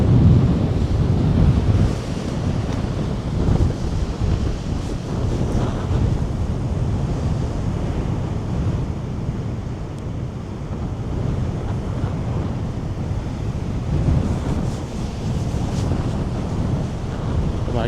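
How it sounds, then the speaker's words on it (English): Strong wind buffets the microphone on a walk at Orre Beach, a loud continuous roar with gusts that swell and ease, mixed with steady surf breaking nearby throughout. "Oh my god, the wind is so strong."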